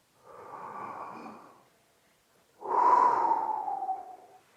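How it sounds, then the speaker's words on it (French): A slow, deep breath drawn in through the nose and then let out, two soft, close airy swells separated by a short pause, with no talking. "en prenant une grande inspiration et puis à mettre la main pour sentir l'air qui passe et qui ressort"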